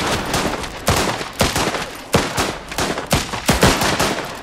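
Enemy gunfire in the video game Last Train Home: rapid bursts of rifle and machine-gun shots crack out loud and close in quick irregular volleys, with no voices over them.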